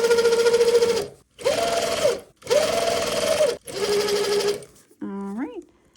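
Sewing machine stitching a hem on a pair of jeans, running in four steady bursts of about a second each with short pauses between them, loud and close, followed by a brief tonal sweep at the end.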